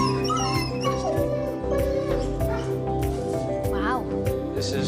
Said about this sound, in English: He became seriously upset whenever their other dog Doyle was taken out of the house